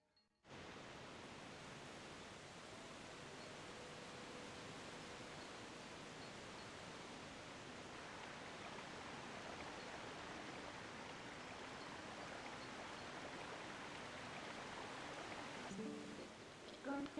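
Rushing river water in the video game Zelda: Twilight Princess, a steady, loud broadband flow that starts abruptly and continues evenly throughout, with faint voices near the end.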